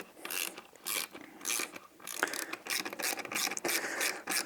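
A hand ratchet tightens the bolts on a beadlock wheel, clicking in quick bursts of rapid pawl chatter separated by brief pauses, close and crisp with no talking.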